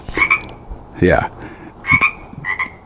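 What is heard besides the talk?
frogs croaking outside the house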